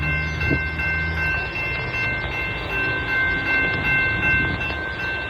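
A southbound CSX freight train of autorack and stack cars rumbles past nearby at a crossing, a loud continuous roar with steady rail noise and a brief horn-like tone near the start.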